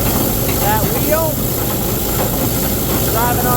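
A tractor engine runs steadily and loudly while pulling a chain-driven fertilizer spreader, a continuous rumbling drone with faint whining tones on top.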